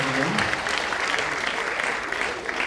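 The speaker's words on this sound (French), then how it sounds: "On applaudit très fort" A hall audience claps loudly and continuously at a Restos du Cœur charity show, a dense, even burst of applause with a voice briefly audible beneath it.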